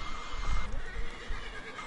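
A horse in the video game Red Dead Redemption 2 whinnies loudly and close, a single drawn-out neigh over low hoof-like thumps, with no talking.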